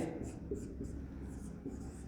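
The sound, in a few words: writing on a board during a lecture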